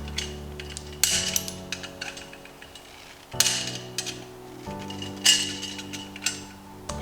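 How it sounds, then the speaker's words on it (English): A flathead screwdriver pries knockouts from a metal recessed light can, producing a few sharp metallic pops and clanks with ringing resonance, followed by smaller clicks and taps, close up and alone. "So to pop them out, just put a flathead screwdriver in there."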